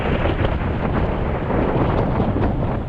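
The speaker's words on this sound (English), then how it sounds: "that's a gust and a half" A strong gust of wind sweeps across a small free marina and beach in a valley at Agios Isidoros, a loud continuous roar buffeting the microphone for the whole stretch, with no voices.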